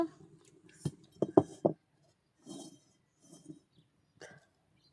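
A kadai wok is set down on a lit stove in a home kitchen, with a few close metallic clanks and clinks against quiet surroundings and no talking.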